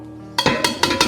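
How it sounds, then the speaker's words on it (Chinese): A hot wok in a home kitchen is coated with used frying oil while a metal spatula strikes and scrapes it, giving several sharp, close metallic clanks after a quiet start. "润一下锅。"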